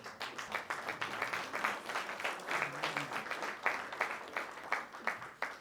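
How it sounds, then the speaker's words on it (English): An audience at an SME forum claps for the event's sponsors, a steady patter of many hands with sharp individual claps standing out, moderately loud and continuing unbroken. "give a round of applause to Densu Associates and AGI"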